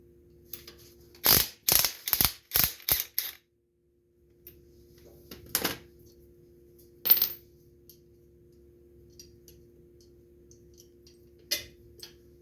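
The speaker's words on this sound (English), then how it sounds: "Make sure your wrench stays on there." Wrench ratcheting on the steering gear of a Craftsman YT 3000 riding lawn mower, a quick burst of five or six sharp clicks followed by a few scattered single clicks, close and alone against a faint hum.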